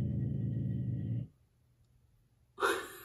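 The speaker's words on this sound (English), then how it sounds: "Did you hear that? That was my dog." A little 35-pound dog gives a low, rumbling growl close by for about a second, then goes quiet before a brief breathy snort.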